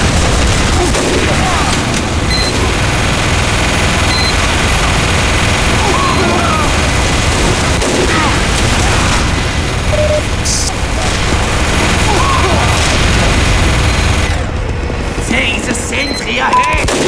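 Rapid gunfire and booming explosions from a Team Fortress 2 capture-the-flag match fill the mix continuously, loud and dense throughout, with voices mixed in.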